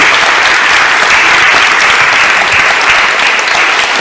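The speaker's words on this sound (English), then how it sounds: "One round of applause for you." A Cambridge Union audience gives a full round of applause, a dense, loud, steady wash of clapping from a large crowd that carries on without a break.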